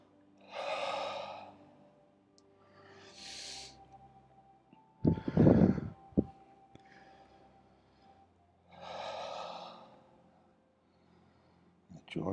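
Deep breathing during a yoga class, slow audible inhales and exhales repeating every few seconds, close and soft, with a brief louder rustle of movement in the middle.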